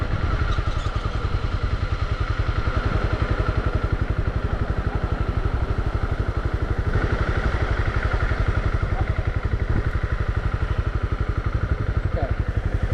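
A Honda CB300R motorcycle engine runs during a beginner's first ride, giving a steady, loud, close-up mechanical drone with a rapid pulsing beat that holds without pause, with occasional faint background voices.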